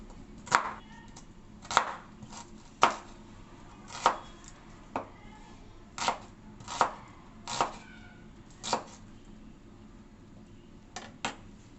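Fish being chopped into large pieces for Telangana-style ravva chepala pulusu, a fish curry: about a dozen sharp, evenly spaced knife strikes land on a board up close, with nothing else heard.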